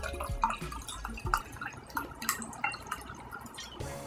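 Wine trickles and drips into a stemless glass with small splashes and gurgles, quiet and close, followed by a brief soft clink near the end.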